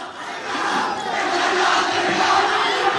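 A college crowd at a mechanical engineering war cry event yells and cheers loudly and continuously, a dense, sustained roar of many voices with no single speaker standing out.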